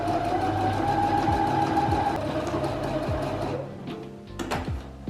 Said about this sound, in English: To give myself room, I'm going to sew down here,